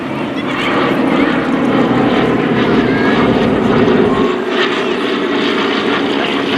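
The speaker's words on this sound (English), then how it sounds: "One of the aircraft that drove the Germans back was the A-26 Invader, built by Douglas." A Douglas A-26 Invader roars overhead at a WWII victory flyover, its piston engines and propellers making a loud, steady, broad rumble that swells and eases slightly over several seconds.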